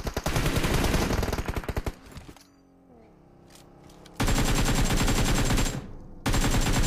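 Rapid automatic gunfire sprays in loud sustained bursts in PUBG Mobile during a training match, cutting off for a quieter stretch and then resuming just as hard.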